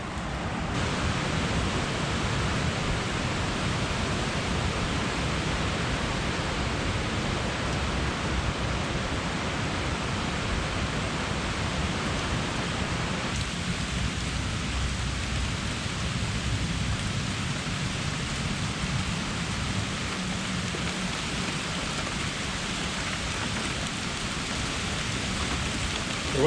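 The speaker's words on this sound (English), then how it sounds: "The rain's definitely coming down now." Heavy rain pours down steadily outdoors, a dense continuous hiss that stays loud throughout, with no voices over it.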